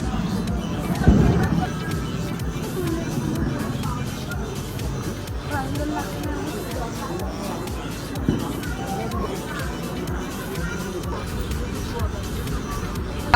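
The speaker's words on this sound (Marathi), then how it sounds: "आम्ही रेल्वे स्टेशनवर आलो आहोत आणि इथं एवढी गर्दी आहे." Busy railway station crowd in Akola, a dense hubbub of many overlapping voices, shuffling footsteps and background clatter, with a couple of louder knocks, steady throughout.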